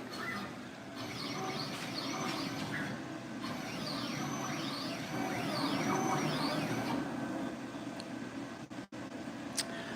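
Langmuir Systems CrossPro CNC plasma table on a dry run, stepper motors whining in sweeping rising and falling tones as the gantry moves, steady and close, with a brief thump near the end.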